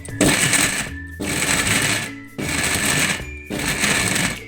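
A mixer grinder pulses minced mutton in four loud, close bursts of roughly a second each, separated by brief pauses as the motor whirs up and stops.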